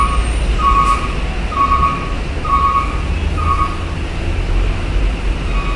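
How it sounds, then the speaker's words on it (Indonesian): Trucks manoeuvring at the Bakauheni ferry dock, with a steady run of evenly spaced reversing beeps over a loud, constant engine rumble close by. "Kendaraan truk masih mendominasi."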